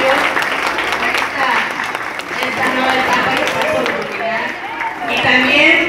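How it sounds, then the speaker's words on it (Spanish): Audience applause at a primary school graduation ceremony in Acapulco, a steady broad clapping wash that holds for several seconds with a crowd murmur and a voice over a loudspeaker running through it. "Un fuerte aplauso por favor a sus hijos"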